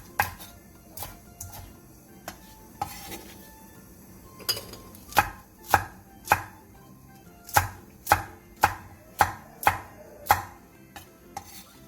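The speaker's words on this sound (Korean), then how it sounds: "양파 1개 반을 1cm 정도 두께로 도톰하게 채 썰어주세요." A knife slices onions on a cutting board into thick strips, sparse at first, then a quicker run of sharp, evenly spaced cuts, close and clear.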